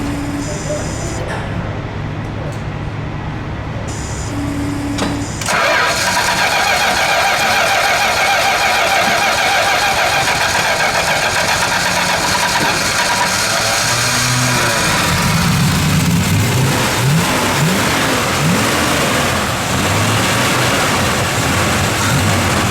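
A 1972 Plymouth Duster 340 V8 with original low mileage cranks briefly, catches and settles into a loud, rough idle, then rises in several revs before easing back, with people talking faintly over the engine.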